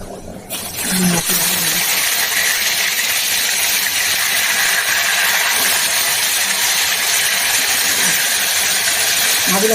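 Hot oil hissing steadily in a pan before brinjal is fried for a yogurt curry, a loud continuous sizzle that starts abruptly after a quiet moment and carries on unbroken to the end.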